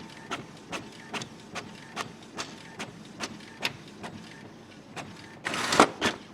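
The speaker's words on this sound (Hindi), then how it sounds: "बाकी पहला पेज प्रिंट आ रहा है" An ink tank printer runs a copy job and prints a page, feeding with a regular rhythmic whir-clunk roughly every half second, then ending in a louder mechanical burst as the sheet ejects, close and without talking.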